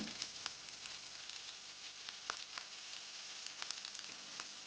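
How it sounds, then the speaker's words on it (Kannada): Spices frying in two tablespoons of hot oil in a pan give a steady, soft sizzle with scattered sharp crackles and pops throughout, quiet and close with no talking. "ಒಂದು ಪ್ಯಾನಲ್ಲಿ ಎರಡು ಟೇಬಲ್ ಸ್ಪೂನಷ್ಟು ಎಣ್ಣೆಯನ್ನು ಬಿಸಿ ಮಾಡಿ ಇವೆಲ್ಲವನ್ನು ಹಾಕಿ ಸ್ವಲ್ಪ ಒಂದೆರಡು ನಿಮಿಷ ಫ್ರೈ ಮಾಡುವ"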